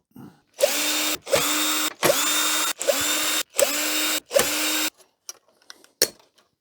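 A power drill unscrews fasteners from the circuit board of a vintage 1991 HP LaserJet 3P printer in six short, whirring bursts with brief gaps, followed by a few faint clicks and one final quick spin.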